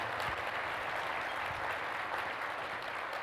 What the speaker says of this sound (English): I want to give them a round of applause for making me a success